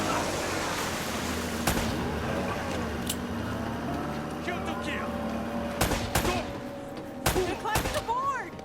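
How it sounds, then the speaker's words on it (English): Video game gunfire in Uncharted: Drake's Fortune, scattered sharp shots and bursts over a constant noisy battle background, with a cluster of louder shots near the end and character voices heard around them. "Less talking, more shooting."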